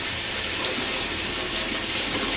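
Tap water runs steadily into a sink while a tie-dyed shirt is rinsed of loose dye, a continuous close hiss and splash with no talk.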